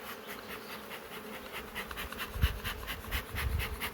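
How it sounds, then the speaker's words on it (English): A dense, steady buzzing of many honey bees around a hive fills the air close by, a continuous hum with a few low bumps and rustles. "I'm going to give these bees a little smoke to get them to go back down in there"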